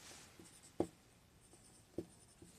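Pen or chalk strokes writing out a maths formula for a class 10 trigonometry lesson, a few short, faint scratches and taps spaced apart in a quiet room.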